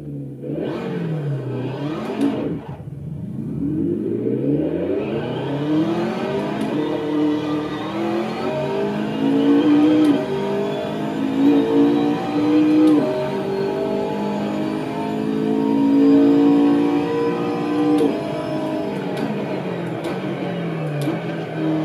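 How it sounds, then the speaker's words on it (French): A McLaren 650S GT3 race car laps the Mugello circuit in a racing video game, its engine revving and climbing through gears continuously and loudly, with rising and falling pitch sweeps throughout. "On se retrouve donc maintenant directement sur le jeu avec la McLaren 650S GT3 sur le circuit de Mugello."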